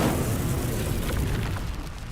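Incendio fire spell cast in Hogwarts Legacy, a dense, roaring burst of flame that holds steady and loud for about two seconds before easing slightly, with no voices.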